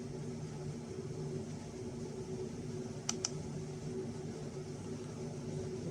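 A radiation dosimeter with an SBT-10 Geiger counter tube gives two sharp, quick clicks close together midway through, set against a steady low electronic hum.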